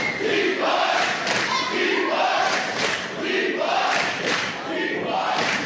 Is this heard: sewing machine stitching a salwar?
no